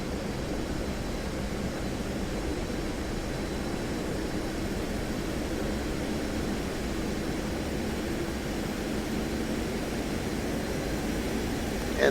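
A MiG-29S jet engine in a flight simulator game drones as a steady, even broadband roar at moderate level, holding constant throughout without any noticeable surge.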